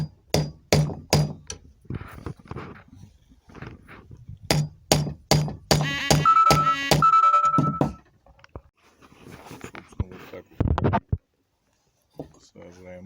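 Hammer blows drive a bolt head flush into a wooden easel leg, a burst of sharp, rapid knocks followed by a scraping, ringing stretch and a few later taps, with someone talking in between.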